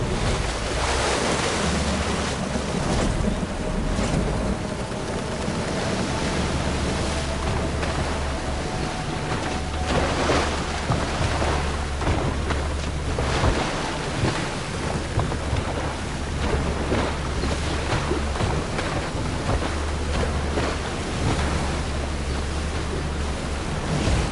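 In the Horizon Forbidden West: Burning Shores game, a boat sails on the open sea, with continuous rushing water, surf and wind, and a low rumble underneath, loud and unbroken for the whole stretch with no voices.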